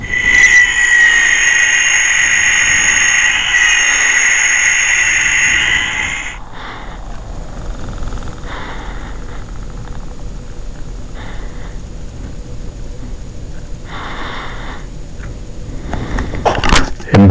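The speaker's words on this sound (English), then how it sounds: "makes noise, has Jigsaw's voice, the saw sound, and the saw spins" A Saw horror toy plays its electronic effects: a loud, shrill squealing whine for several seconds, then quieter intermittent electronic bursts and clicks, ending in a sharp burst of noise.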